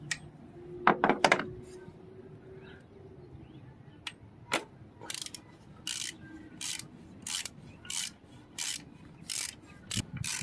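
Short ratchet clicks in quick bursts as a bolt is loosened on a 2006-2011 Honda Civic thermostat housing, close and crisp, with a few sharper knocks early on against a quiet background.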